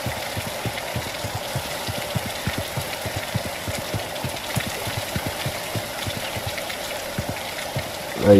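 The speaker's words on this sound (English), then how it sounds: "The rain will randomly pick the intensity, and the volume of the rain is tied to that intensity." Simulated rain from an Unreal Engine 5 dynamic weather system, a steady hiss of rainfall with rapid, evenly spaced soft patters throughout, fairly quiet and constant, ending in a brief louder swell.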